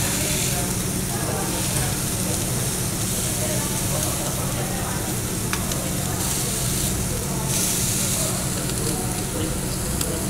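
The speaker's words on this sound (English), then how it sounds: "I'm going to sear the edges so you find the parts of the grill that have not had food" Loud, constant sizzling of meat searing on a hot grill at a Chinese hot pot and BBQ restaurant, a dense crackling hiss throughout with faint background murmur.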